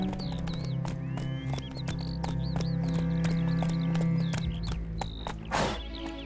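A horse ridden through the countryside in The Witcher 3: Wild Hunt, its hooves beating a steady, close clip-clop over a low rumble while birds chirp around it, ending in a brief rushing whoosh.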